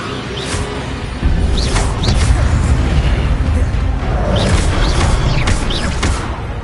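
Levioso spell being cast in the video game Hogwarts Legacy, a bursting whoosh with pops and a rumbling boom, loud and continuous through the scene.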